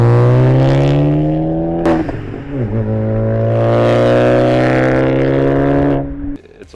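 A B8 Audi with a big turbo build, new downpipe and AWE Touring catback exhaust, idling loud and steady close by, with a brief blip around two seconds before settling back into a droning hum that cuts off near the end.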